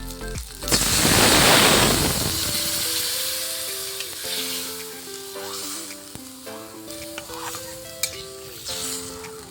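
Ground ginger and spice paste sizzles hard in a pan for a snakehead fish curry, with a loud burst of frying early on that settles into quieter crackling under clinking pot and utensil sounds, with no talk.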